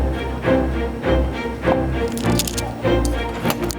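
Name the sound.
knife cutting rolled spiral pastry dough into pieces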